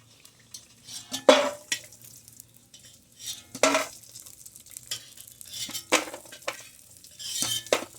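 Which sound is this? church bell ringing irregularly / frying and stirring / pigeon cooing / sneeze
frying and stirring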